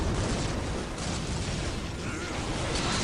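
Dense grenade explosions and battlefield clatter in Dawn of War Definitive Edition blend into a constant, fairly distant rumble of bursts and pops, with no clear pause between impacts.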